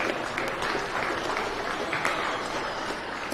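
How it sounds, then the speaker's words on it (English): A county fair swine show audience gives exhibitors a round of applause: continuous, moderately loud crowd clapping with a few sharper claps standing out, sustained throughout. "give our next Pin 3 exhibitors a nice round of applause"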